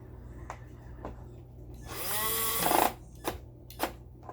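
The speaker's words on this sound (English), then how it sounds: "Get a nice matching red drill." A red power drill drives screws into a Dirt Devil Quick-Lite Cyclonic vacuum during a repair, with a loud whirring burst of about a second flanked by sharp clicks and taps.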